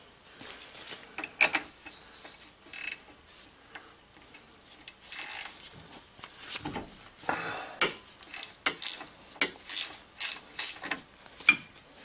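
Ratchet wrench clicking on the inner tie rod of a GM Buick LeSabre, bursts of close, sharp ratcheting ticks in short irregular runs with quiet gaps between.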